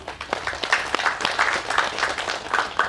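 An audience applauding, many hands clapping in a dense, lively patter that holds steady throughout.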